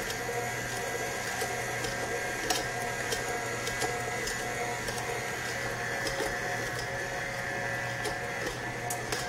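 An electric mixer runs on low speed through oatmeal cupcake batter as buttermilk is added, giving a steady, even mechanical whir with faint ticks and clicks and no voices.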